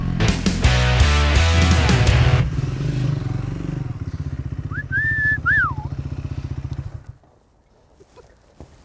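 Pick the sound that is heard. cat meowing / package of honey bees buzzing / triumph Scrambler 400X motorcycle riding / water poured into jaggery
triumph Scrambler 400X motorcycle riding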